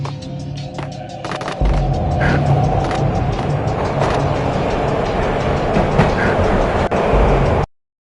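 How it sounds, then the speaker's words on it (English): Steady rumbling clatter of a train rolling along rails in the video game Max Payne, loud and continuous with rhythmic clicks, cutting off abruptly at the end. "This was my second train ride of the night"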